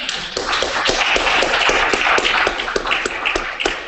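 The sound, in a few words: audience applause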